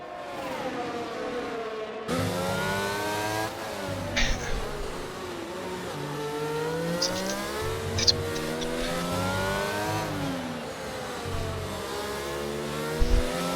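Formula 1 racing cars in the F1 22 video game, including an Aston Martin, scream past with high whining engines that continuously rise and fall in pitch as they accelerate and shift, loud and sustained throughout.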